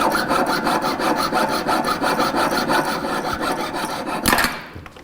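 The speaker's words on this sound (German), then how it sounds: "Goldschmiede arbeiten mit einer Metalllaubsäge, die feinste Schnitte erlaubt." Goldsmith's metal fret saw cutting through a ring, a fast rhythmic rasping of rapid back-and-forth strokes, close and steady, ending with a sharp scrape and a stop.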